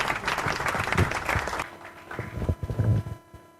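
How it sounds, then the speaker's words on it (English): An audience at a public policy dialogue on gender responsiveness of agricultural extension claps for Dr. Roslyn, a burst of applause that fades partway through before a few scattered closing claps, with faint voices. "Another round of applause for Dr. Roslyn."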